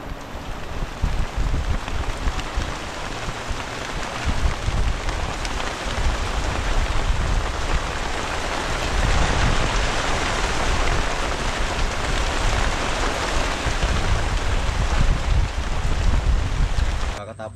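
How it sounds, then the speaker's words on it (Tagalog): Heavy rain pours down steadily, a loud, dense roar of drops drumming on surfaces that continues throughout. "Bumuhos na nga po, malakas na ulan."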